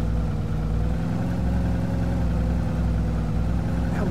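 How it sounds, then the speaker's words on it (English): A slow car's engine in a video game drones at a steady, low, mid-pitched hum with no clear revving, close by and without speech. "this car is so slow"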